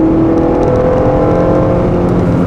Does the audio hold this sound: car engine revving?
yes